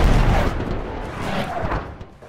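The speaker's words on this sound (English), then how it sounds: "can we get some artillery shells on that trench line, perhaps?" Artillery shells slam into a trench line in the Warband mod The Parabellum, a World War I game, as a loud continuous barrage of booms and rumbling blasts that fades slightly toward the end.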